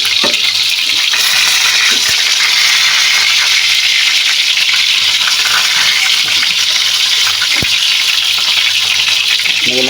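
Chicken pieces fry in hot oil, a steady loud hiss and crackle throughout with a few faint clinks, close up and without talk.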